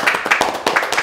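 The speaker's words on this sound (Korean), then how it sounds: "박수 한번 쳐야 됩니다" An audience applauds in a lecture hall, a close, fairly loud patter of many hands clapping in uneven bursts with no voice on top.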